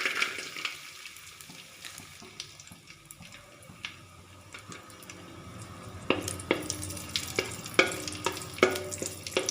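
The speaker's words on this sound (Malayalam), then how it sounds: "ഇതേ എണ്ണയിലേക്ക് തന്നെ കുറച്ച് ഉണക്കമുന്തിരി ഇട്ട് കൊടുക്കാം" Raisins drop into hot oil and fry with a soft, steady sizzle, punctuated by small pops and stirring clicks that grow busier and louder in the latter part.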